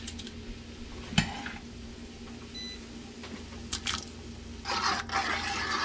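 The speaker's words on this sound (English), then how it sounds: "So I'm going to go ahead and add the veggies now to the broth." Chopped vegetables are dropped into soup broth and stirred with soft wet squishing and clinking, one sharp knock early on, then busier stirring near the end, close by with no talk.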